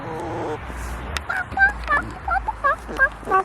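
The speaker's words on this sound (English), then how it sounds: "Delilah's over there with Snowflake, our two chickens." Backyard chickens call outdoors in a string of short, clucking squawks, mid-distance and fairly loud, with low rumbling background noise between the calls.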